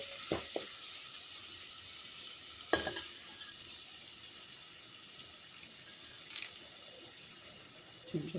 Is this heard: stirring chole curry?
yes